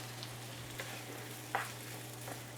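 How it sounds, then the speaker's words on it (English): A vegetable stir-fry with peanut sauce sizzles softly in a hot pan, with a steady frying hiss and a few faint scrapes as it is stirred, heard up close and quiet. "I just want to stir it just so the sauce gets hot"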